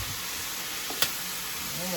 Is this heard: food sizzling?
yes